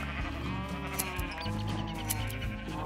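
Sheep in the video game Minecraft bleat over a busy background of game noise, with several short bleats spread across the stretch.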